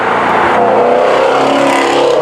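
A Ford Shelby GT350R Mustang's engine drones steadily from inside the car while driving, a loud, sustained mechanical roar with a low rumble and no break.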